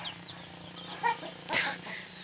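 Backyard chickens cluck near the microphone while pecking at water, a couple of short clucks followed by a sharper squawk, over a faint steady hum.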